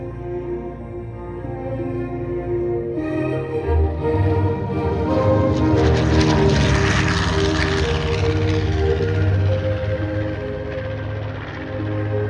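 A restored North American PBJ, the Navy version of the B-25 Mitchell bomber, passes at an air show with a loud, sustained twin radial-engine drone that swells as it nears and stays strong before easing slightly.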